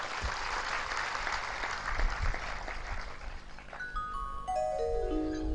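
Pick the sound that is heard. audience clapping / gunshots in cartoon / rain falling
audience clapping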